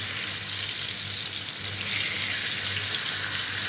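Fish cooks in a pan with a steady, dense sizzle that hisses evenly and loudly throughout, with no talking.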